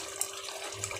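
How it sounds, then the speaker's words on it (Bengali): Running water from a kitchen tap as a plate is rinsed under it, a steady broadband splashing wash with a few brief louder splashes. "প্লেটটা ধুয়ে দিয়ে দিই"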